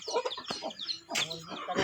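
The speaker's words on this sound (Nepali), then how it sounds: "त्यहाँ छोडिरहेछन् अब हाम्रो कुखुरा" A black village chicken clucks close by, a run of quick agitated clucks and squawks with a louder burst in the second half.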